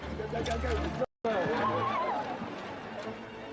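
A horse whinnies in a paddock setting, and the neigh rises and falls under steady spoken narration, with faint background noise that may include hooves.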